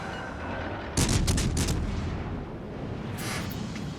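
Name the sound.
naval gunfire in the video game World of Warships Legends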